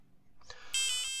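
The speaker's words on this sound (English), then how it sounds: "The program makes it beep like the BBC radio time signal." A micro:bit buzzer sounds a single-tone pattern in the style of the BBC radio time signal: a few short quiet pips, then a longer, louder steady tone at the end, heard alone.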